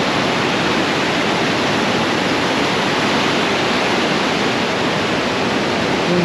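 Roaring whitewater of the Niagara River rapids along the White Water Walk boardwalk, a steady, loud, dense broadband rush that never lets up, close and overwhelming with no voices.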